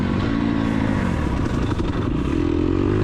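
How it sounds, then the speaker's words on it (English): An off-road motorcycle chain chatters as the dirt bike powers out of corners, a dense rattling clatter over steady engine roar, close and continuous without speech. "there's some good chain chatter"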